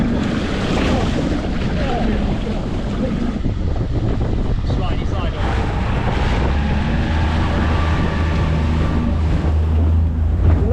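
A small inflatable speedboat roars steadily across open sea on a windy day, engine drone mixed with rushing spray and gusting wind buffeting the microphone throughout.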